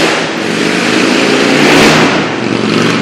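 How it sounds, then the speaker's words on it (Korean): Loud motorcycle roaring past on a street in Hawaii, a broad, rough engine growl that swells toward the middle and eases off as it goes by, heard alone without voices. "굉장히 요란한 오토바이들이 가끔 지나갑니다."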